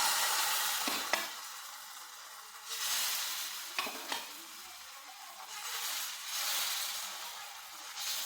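A breakfast dish cooks and sizzles in a pan. A soft frying hiss swells and fades in waves, with a few sharp scrapes and taps from a utensil. No one speaks.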